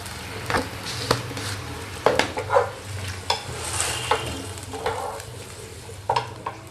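Hot tadka tempering for dhokla sizzles steadily in a pan. A spoon clatters against the metal in irregular taps and scrapes over the frying.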